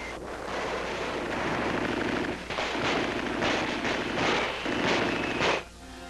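Wartime battle sound from a 1945 newsreel of the Pacific drive on Manila, Bataan and Corregidor, a dense roar of blasts and gunfire with repeated heavy bursts in its second half before it cuts off.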